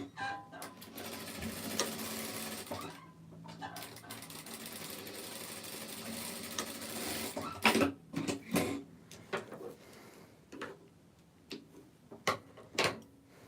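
A sewing machine runs a steady stitching seam joining a garment at the shoulder, back to back, then stops, leaving scattered clicks and handling knocks of fabric and machine parts.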